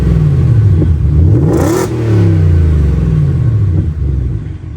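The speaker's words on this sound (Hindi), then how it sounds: "एग्जॉस्ट साउंड आप कार का नेक्स्ट क्लिप में सुन लेना।" A Ford Raptor R pickup's V8 engine revs loudly up and down, its exhaust roaring and rumbling close by, with no talk over it.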